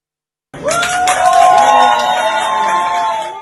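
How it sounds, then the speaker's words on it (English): Passengers aboard a JetBlue plane at Norman Manley International Airport in Kingston erupt into a loud, rowdy cabin noise of clapping, cheering and raised voices that starts abruptly and stays dense to the end. "A rowdy applause for this man's removal from a JetBlue flight at the Norman Manley International Airport in Kingston"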